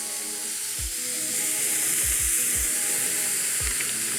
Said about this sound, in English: So we're gonna sear this.